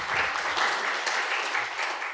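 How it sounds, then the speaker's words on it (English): Audience at an academic talk on academic integrity applauding steadily, a dense wash of many hands clapping throughout without a break. "Can you clap for him, please?"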